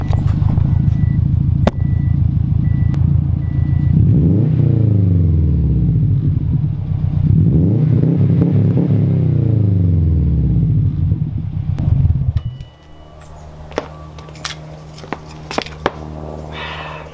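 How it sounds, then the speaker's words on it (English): A Subaru EJ25 car engine, front bumper removed, revs up twice in long rising and falling sweeps over a steady idle, then drops back to a rougher, quieter idle with some clatter. "We're gonna give her a few revs for the boys."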